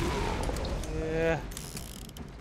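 A hand-cranked lift in Borderlands zombie island clanks with a ratcheting mechanical rattle and gear creaks, close and brief, while a voice briefly speaks.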